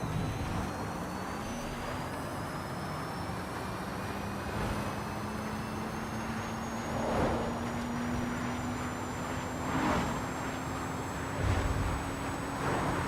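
An electric car in the racing game Forza Horizon 5 whines with a rising motor tone over a constant rush of tire and road noise, with a few louder swells of tire sound along the way.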